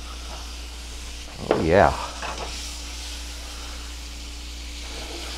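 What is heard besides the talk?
butter sizzling in a hot pan for hash browns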